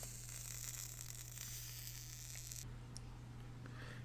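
Vape coils on a Wotofo Recurve Dual atomizer sizzle and crackle steadily as they are fired to glow, a continuous close hiss with a constant low hum, and the sizzle drops off sharply near the end.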